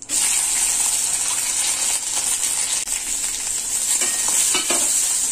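Cumin seeds, two bay leaves, a dried red chilli and whole garam masala frying in hot oil for mocha ghonto, a steady close sizzling hiss with a few faint scrapes toward the end.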